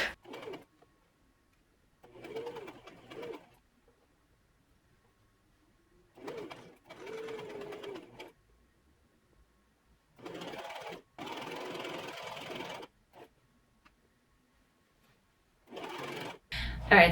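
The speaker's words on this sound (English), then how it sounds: "try to just sew a little off here" A sewing machine stitches a bias-cut maxi dress skirt in several separate bursts of a few seconds each, with quiet gaps between them; close by and alone, no talk over the whirring runs.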